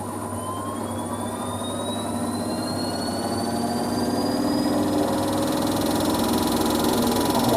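Zanussi Z716WT83BI integrated washer dryer running a long high-speed spin on a cottons cycle, a steady loud mechanical whine and vibrating rumble that rises slightly in pitch and intensity throughout, with no talking.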